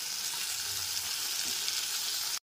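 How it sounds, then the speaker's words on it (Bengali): Ginger-garlic paste and tomato fry in a pan over a low-to-medium flame, giving a soft, even sizzle that holds steady for about two seconds before cutting off abruptly. "রসুন বাটাটাকে টমেটোটার সাথে খুব ভালো করে কষিয়ে নিতে হবে।"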